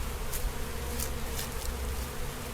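Honey bees buzzing around an open hive during an inspection on the Mississippi coast, a dense continuous hum close to the microphone, with a few louder passes of individual bees and no speech.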